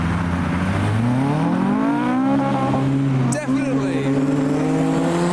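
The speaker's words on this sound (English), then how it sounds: "this Jetta has a naturally aspirated K20. So let's see if we can listen out for the Honda-powered Jetta" A Volkswagen Jetta with a naturally aspirated Honda K20 engine revs loudly and close, its engine note climbing in pitch as it accelerates past, then settling; a voice speaks briefly.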